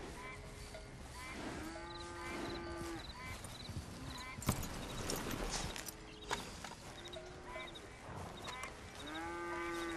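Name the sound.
cattle herd and horse hooves in video game Red Dead Redemption 2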